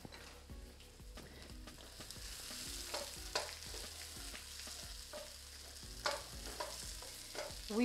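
Onions and carrots fry in a tablespoon of cooking oil in a pan for a pizza sauce. Steady sizzling runs throughout, broken by repeated stirring scrapes and clinks of a utensil against the pan, with no talking.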